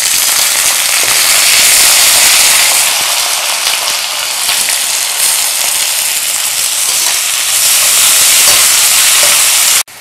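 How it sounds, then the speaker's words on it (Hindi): Two medium sliced onions fry in hot oil in a kitchen pan, giving a loud, steady, close sizzle and crackle that runs without a break until it cuts off at the end. "इसको फ्राई कर लेते हैं।"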